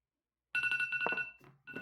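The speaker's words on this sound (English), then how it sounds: "Sorry, that's my alarm, not yours." A phone-style alarm rings in a rapid repeating electronic trill, close and fairly loud, pausing briefly before starting again.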